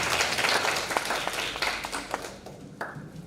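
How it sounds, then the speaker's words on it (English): A seminar audience gives a short round of applause, a crowd of hands clapping briskly nearby, then thinning out into a few scattered claps as it fades. "Let's give applause for them."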